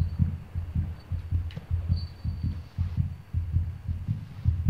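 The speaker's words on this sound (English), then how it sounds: "in the game, like, the child's heartbeat is like picking up quite a bit" A child's heartbeat in the horror video game Among The Sleep, a deep rapid thumping pulse repeating steadily and close, alone without talk.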